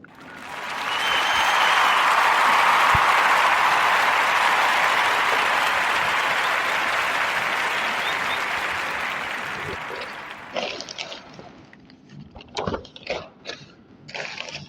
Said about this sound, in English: So give a warm Narrative Podcast round of applause for Charles S. Dutton.